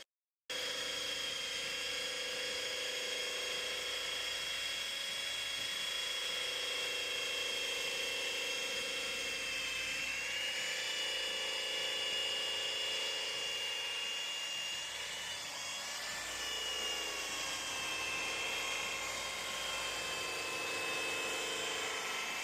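A rotary polisher buffs and cuts the metal skin of a Cessna aircraft, giving a continuous high-pitched motor whine with shifting tones as pressure changes, loud and steady throughout.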